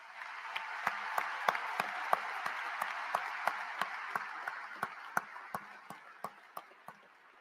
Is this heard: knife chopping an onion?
no